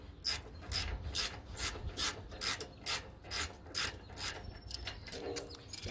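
Channellock GL10 pliers being readjusted on a bolt, giving a steady run of about a dozen sharp ratcheting clicks and scrapes close to the listener, with no talk.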